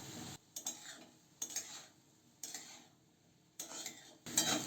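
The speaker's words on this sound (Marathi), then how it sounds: "त्यामध्ये टाकूया शेंगदाण्याचा कूट आणि परतून घेऊ" Bottle gourd with crushed peanuts is stir-fried in a pan, heard as quiet bursts of spoon scraping and clinking separated by short pauses, with faint sizzling and no talk.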